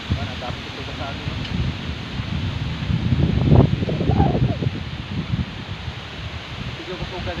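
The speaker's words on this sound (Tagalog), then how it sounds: "medyo kusuga dito sa bukid hangin wala ngay ulan" Strong wind sweeping across an open farm field, a steady broadband rush that swells louder in the middle and buffets the microphone, with a voice talking faintly at times.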